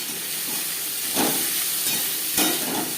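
Chopped onion and tomato fry in oil in a wok, giving a close, steady hissing sizzle with two brief louder surges as the pieces are stirred.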